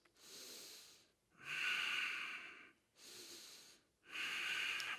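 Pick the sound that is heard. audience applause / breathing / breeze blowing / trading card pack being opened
breathing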